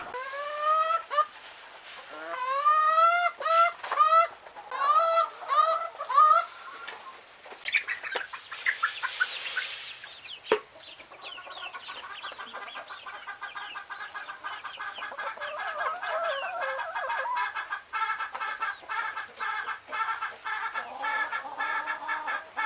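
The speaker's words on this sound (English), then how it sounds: "But I'm going to feed these angry chickens." Backyard chickens waiting for feed cluck and squawk loudly in rapid bursts, then settle into a steady, layered chorus of murmuring clucks from the flock nearby.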